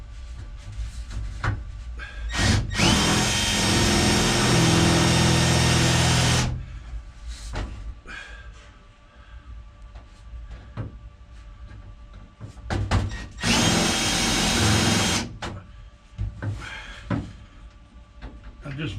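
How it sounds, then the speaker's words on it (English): Power drill boring holes in the rear panel of a 1970 Plymouth Cuda, two long loud sustained bursts of whirring separated by quieter clunks and handling knocks in a garage. "I gotta drill some holes first."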